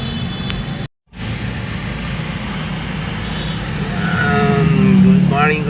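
Road traffic idles and moves at a crossing with a traffic light in the early morning, a steady engine rumble with a brief cut near the start and a vehicle swelling louder toward the end.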